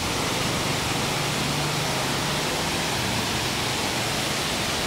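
Steady, dense rush of falling water from a waterfall at Puerto Galera, heard up close as a loud, unbroken roar without voices.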